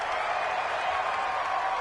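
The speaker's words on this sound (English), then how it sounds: "The crowd's not doing that O-line any favors." Stadium crowd in a PS4 American football game, a dense, steady wall of distant roaring and cheering with no breaks, moderately loud throughout.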